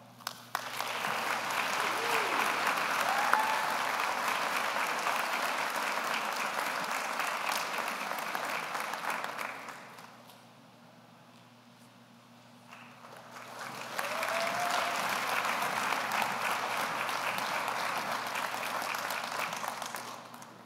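Audience applause for senior award winners fills a chapel at an awards ceremony, a dense, even clapping that runs about ten seconds, fades to near quiet, then rises again for a second round.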